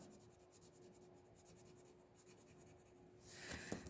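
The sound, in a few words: blue shading pencil shading on paper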